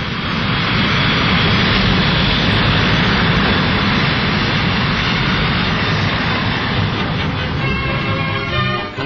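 A loud, steady roar of a Saunders-Roe SR.A/1 jet flying boat holds constant throughout with a broad rushing hiss and no voices.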